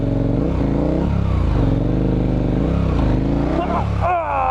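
A dual sport motorcycle on Mitas E07+ adventure tires revs and pulls hard off-road, the engine note rising and falling loud and close throughout.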